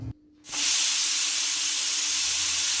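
A pressure cooker cooking beans vents steam in one loud, close, continuous hiss that starts abruptly after a brief pause and holds steady to the end.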